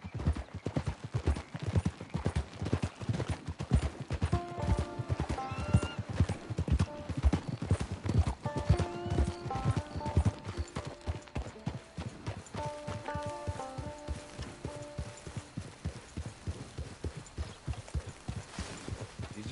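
Horse hooves clip-clop steadily as a horse is ridden in a video game, a fast continuous trotting rhythm up close, with a whinny and soft musical tones in the background and no talk.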